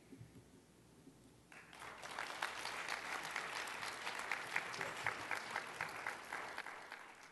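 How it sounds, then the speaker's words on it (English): An audience at a nursing research Hall of Fame induction breaks into applause, starting after about a second and a half and continuing as steady, moderately distant clapping to the end. "Please join me again in a round of applause for our 2011 International Nurse Researcher Hall of Fame inductees."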